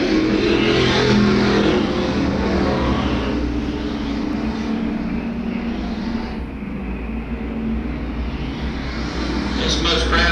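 Crown Vic Junior race cars roar around Swainsboro Raceway in a pack, a loud, continuous blend of engines rising and falling as they pass, with a voice talking faintly over the racing.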